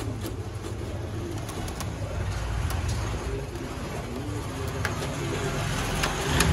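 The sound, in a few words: Teddy pigeons cooing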